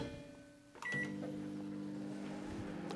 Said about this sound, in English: And after that, back in the microwave.